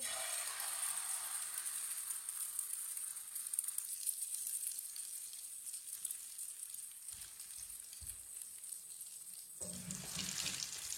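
Whole spices dropped into hot oil in a pan, giving a steady bright sizzle and crackle that holds through most of the clip, then cuts off near the end as a lid closes.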